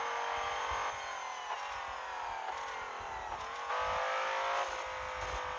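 Modified BMW M5 engine in the racing game Assoluto Racing, a steady loud high-revving drone with slight pitch dips at gear changes, continuous throughout with no talk.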